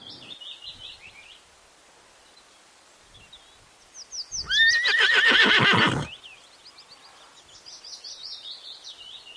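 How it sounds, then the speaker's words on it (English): A horse neighs loudly for about a second and a half, a shaky whinny that stands out over steady birdsong chirping in the background. "H for horse."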